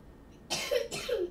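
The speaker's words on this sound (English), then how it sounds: "My little boy is coughing." A young boy coughs twice in quick succession, close and fairly loud, each cough a short harsh burst, with a quiet background before and between them.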